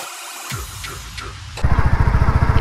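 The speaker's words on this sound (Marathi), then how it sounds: "ॲक्च्युली बाईक घेऊन चाललो आहे गावाला" A motorcycle on a road trip, heard quietly at first, then the engine suddenly loud and close with a rapid, pulsing putter as it rides along.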